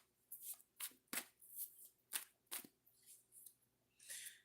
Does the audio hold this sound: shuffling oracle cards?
yes